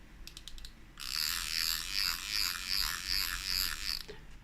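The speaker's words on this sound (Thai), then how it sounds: "อ่านะครับเนี่ยคลิกเสียงนะครับ" An Abu Garcia baitcasting fishing reel fitted with an upgraded clicker: a few quick ticks, then a fast, loud ratcheting buzz of rapid clicks for about three seconds as the spool turns, close and alone.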